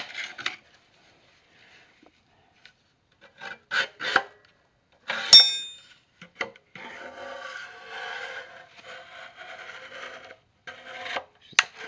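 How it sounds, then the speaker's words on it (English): Scraping old gunk off a part from a 1976 Jeep CJ5: intermittent rasping strokes in short bursts, then a longer steady scrape, close up and with no talk. "Just scrape off this gunk"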